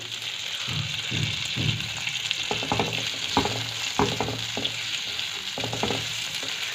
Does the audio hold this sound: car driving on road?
no